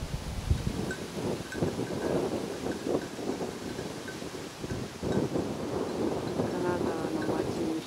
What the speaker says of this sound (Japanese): 今日は風が冷たい